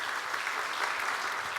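Congregation applause during a Sunday service at a church in Ilsan, a dense, even round of clapping from many hands without speech.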